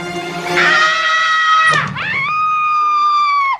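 A person lets out a loud, piercing scream on spotting what seems to be a spider, one sustained shriek that breaks off briefly and then resumes at a high, held pitch.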